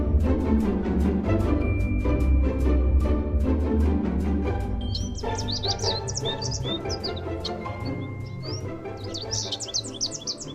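Robins sing in a backyard at dawn, with bright rapid chirps and warbling phrases repeating close by over a low background hum.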